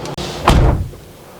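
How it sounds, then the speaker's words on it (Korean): The door of a Kia Sorento R SUV converted into a camper is swung shut, giving one loud, close, solid slam with a brief dull thud that fades quickly. "한번 문을 닫아 볼게요."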